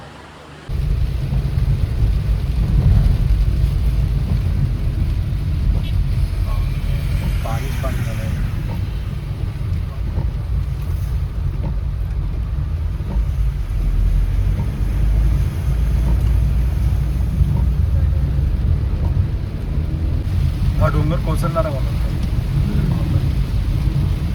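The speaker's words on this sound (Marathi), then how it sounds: "पाऊस आहे एकदम मुसळधार पाऊस आहे" Heavy monsoon downpour during a wedding in the hills, a dense, constant roar of rain that stays loud and unbroken, with brief voices in the background.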